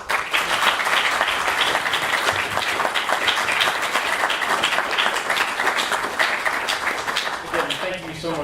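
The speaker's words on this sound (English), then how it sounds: "Can we have a round of applause for that?" An audience gives a round of applause for the panelists at the close of a machine learning Q&A, a steady dense clapping from a room of people that continues throughout, with some voices mixed in.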